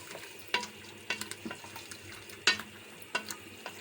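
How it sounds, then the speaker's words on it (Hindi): Potato pieces are fried with mutton in a pan: a quiet sizzle is broken by several sharp spatula scrapes and clacks at irregular intervals, close and fairly faint overall. "अब मैं इसको आलूओं को शामिल करती हूँ और इसको भी अच्छे तरीके से भून लेती हूँ"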